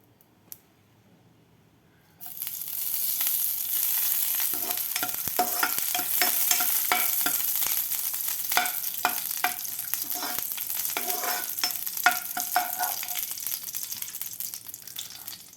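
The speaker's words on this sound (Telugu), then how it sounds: "ఇప్పుడు దీంట్లోని కళాయిలోనే కొంచెం నెయ్యి వేసుకుని బాదం పప్పు జీడిపప్పు వేయించుకుందాం" Almonds and cashews frying in ghee in a kadai for bread halwa start abruptly after a quiet moment, then a loud, steady sizzle continues with scattered clicks from stirring, no talk.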